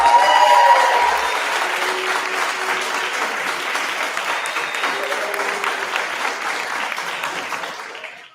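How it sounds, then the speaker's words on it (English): A sustained burst of crowd applause, dense hand clapping with some cheering that holds steady for several seconds, then tapers off and cuts out. "I'll give him a hand clap here."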